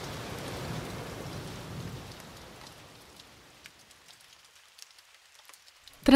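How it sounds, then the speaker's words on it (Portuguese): Steady rain falling with a low rumble of thunder, fairly faint, easing off into scattered drips before a sudden soft thump at the end. "Chove, chove forte nos meus olhos."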